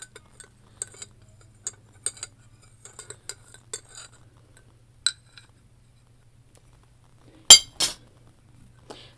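Spoon stirring butterfly pea flower tea in a glass jar, scattered light clinks and taps against the glass, with one sharp louder clink near the end, otherwise quiet.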